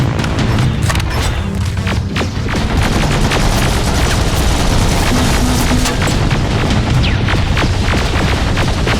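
Heavy gunfire roars through a Terminator: Resistance firefight, with dense overlapping rifle bursts, booms and crackling shots forming a loud, unbroken barrage for the full stretch.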